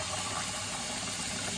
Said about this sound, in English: And fill this sucker up with water